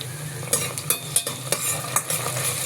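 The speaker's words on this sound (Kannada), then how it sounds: "ಸ್ವಲ್ಪ ಶುಂಠಿ ಬೆಳ್ಳುಳ್ಳಿ ಪೇಸ್ಟ್ ಹಾಕ್ತಾಯಿದ್ದೀನಿ" Ginger garlic paste sizzling in hot oil in a pan while a spoon stirs it, with soft irregular scraping strokes over a steady frying hiss, close and fairly quiet.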